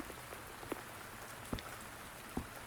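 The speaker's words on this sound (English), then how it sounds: "Are you trapped here by the rain?" Rain falls in the game Wuthering Waves, a soft, steady patter with a few louder drips landing nearby, and no voices.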